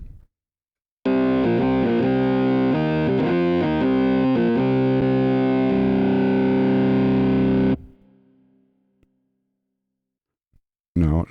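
An aggressive, direct synth preset plays a loud distorted chord pattern with shifting harmonics for about seven seconds, then cuts off and leaves a short fading tail before a brief burst at the end.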